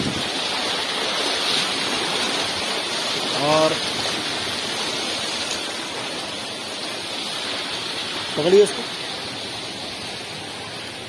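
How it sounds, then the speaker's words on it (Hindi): Floodwater runs steadily through a flooded residential ward, a constant broadband rush of water with voices briefly speaking over it. "देख सकते हैं ये भी लगातार पानी बह रहा है।"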